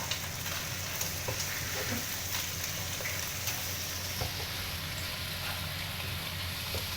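Chicken and vegetables for fried rice frying in a pan, a steady even sizzle with faint scattered pops and crackles throughout, moderately quiet and without talking.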